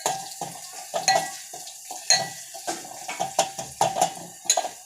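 Drumstick pods sizzle in a pan as a spoon stirs them, with repeated scraping strokes and soft clinks against the metal, close and steady, no voices.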